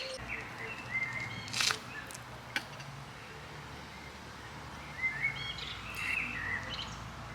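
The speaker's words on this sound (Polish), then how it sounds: "Kos to jest dla mnie najpiękniejszy śpiew, naprawdę." A common blackbird sings several short, bright phrases one after another over a steady outdoor hiss, with no talking.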